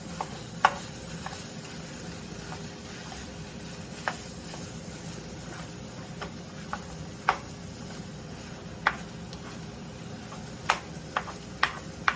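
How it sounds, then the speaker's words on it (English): Ground meat browns in a pan with a soft, steady sizzle, punctuated by scattered sharp clicks and taps from a utensil breaking it up, fairly quiet with no talking. "I'm just gonna finish browning my meat"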